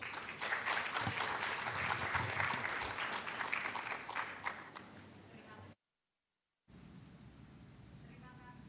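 Dense, loud clapping from an audience at a government side-event meeting that fades off, then a sudden silent gap before quiet room noise resumes.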